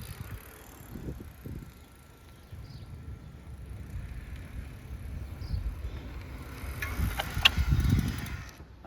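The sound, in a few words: Ride1up LMTD V2 e-bike being ridden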